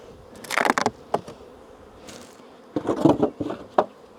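Honey bees buzz around an opened hive, with irregular close passes and bursts of droning wingbeats rising and fading, separated by quieter stretches.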